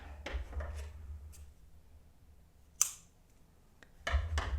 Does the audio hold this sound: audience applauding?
no